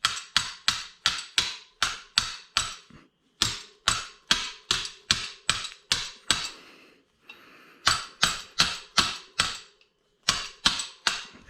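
Metal-on-metal hammering on a mountain bike part using the back of a hand tool: a run of sharp, close, evenly paced strikes in quick bursts with brief pauses between groups.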